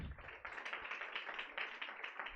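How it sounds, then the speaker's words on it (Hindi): Church congregation clapping hands together in thanks during a Hindi-language holy communion service, a steady stream of overlapping claps from many people for a couple of seconds, no talking. "ताली बजा के धन्यवाद करें।"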